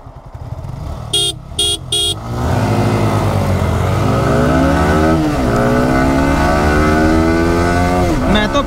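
Three short electronic beeps sound before two Yamaha R15 V4 motorcycles launch in a drag race, their engines climbing loudly in rising, repeated gear-by-gear revs close by.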